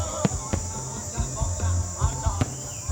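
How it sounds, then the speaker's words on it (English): Fireworks bursting during a crowded Khmer New Year night celebration in Battambang, a series of sharp booms and cracks at irregular intervals under a steady crowd murmur and high-pitched background noise. "Okay, the fireworks start."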